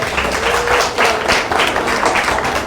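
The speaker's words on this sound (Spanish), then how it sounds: "Aplausos." An audience at a political party training event applauds, a dense wash of clapping from many hands that carries steadily for a few seconds.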